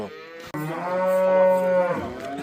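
A calf at a livestock market lets out one drawn-out, fairly loud moo rising and falling in pitch over about two seconds, close by and alone, with no talk.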